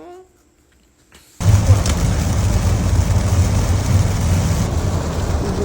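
Heavy rain sets in suddenly after a quiet opening, a dense, steady broadband wash that stays loud and constant to the end, with no voices.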